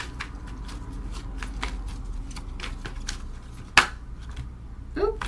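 A deck of tarot cards being shuffled by hand: repeated soft riffles and flicks in an uneven rhythm, close and fairly quiet, with a sharper slap near the end.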